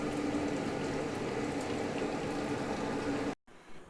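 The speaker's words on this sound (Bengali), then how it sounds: "এবারে আরেকটু ঢাকা দিয়ে একটু ফুটতে দিচ্ছি।" Chickpea curry simmers steadily in a covered pan, making a continuous bubbling hiss that stays even throughout and then cuts off abruptly near the end.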